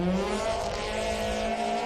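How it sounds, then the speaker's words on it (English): A rally car at the Rally of Otago in New Zealand blips its engine on a downshift, then holds a steady, rising rev out of the corner, heard loud and fairly close with no talking. "Little blip of the accelerator as he pops it down a gear and then feeds it straight out off the apex"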